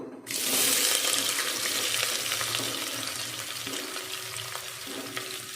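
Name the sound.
onion added to hot pan, frying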